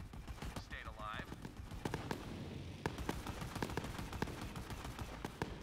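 Fireworks in the video game Borderlands 3 crackle and pop as a scattered series of sharp bursts over a steady noisy background, with a brief whistling sweep early on.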